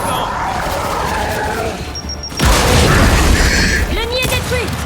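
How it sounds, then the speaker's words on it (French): A grenade blows up an enemy nest in the video game Gears of War 5: a heavy boom hits partway through and leaves a dense crashing rumble. Constant game noise and music play throughout. "Faut lancer une grenade là-dedans!"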